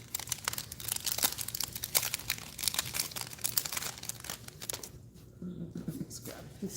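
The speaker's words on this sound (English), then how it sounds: "Let's grab a piece of paper." A sheet of paper being crumpled by hand, crinkling in dense bursts for several seconds at close range before quieting near the end.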